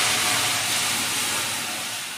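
Lentils for dal being poured into a hot pan, a loud continuous sizzling hiss that stays strong and slowly eases over about two seconds.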